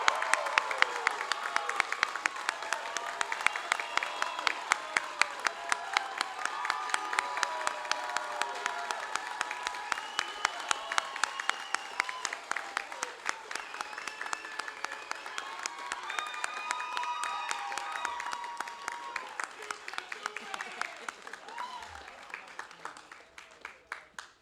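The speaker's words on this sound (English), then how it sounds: "Would you all please join me in a round of applause for the graduates of Bosun's Mate A School RAP 2507" An audience at a United States Coast Guard Boatswain's Mate A School graduation ceremony claps steadily for the graduates, a dense sustained applause with some cheering and voices, slowly thinning toward the end.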